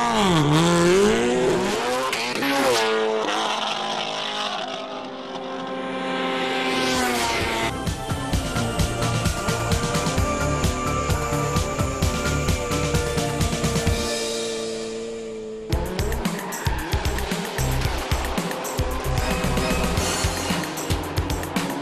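A Subaru Impreza rally car driven in stunts gives loud, sustained engine revving that rises and falls, with tyre squeal, a steady roar throughout.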